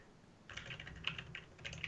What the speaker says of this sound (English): Listen to this keyboard, Bobby.